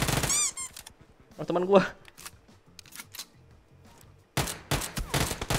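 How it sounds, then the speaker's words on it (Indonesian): Rapid bursts of gunfire crackle in the PUBG battle royale game, with a sharp cluster early on and a louder dense volley near the end, while someone talks over the shooting. "Udah ada yang nembak dari jauh."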